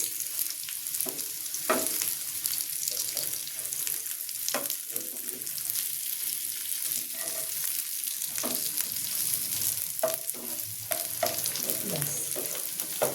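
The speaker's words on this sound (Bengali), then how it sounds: "এবার আমি কোপ্তাগুলোকে ভেজে নিয়েছি" Koftas frying in a pan of hot oil, a steady broadband sizzle running throughout with occasional sharper crackles and spatters; no voices.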